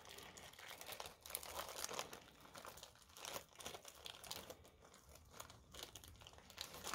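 Stuck plastic packaging on a diamond painting kit being ripped open by hand, a steady run of close crinkling and tearing plastic noise lasting several seconds with no talk.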